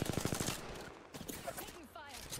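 A rapid burst of automatic gunfire in the battle royale shooter Apex Legends rattles out at the start, followed by scattered in-game sounds and brief voice-like bursts.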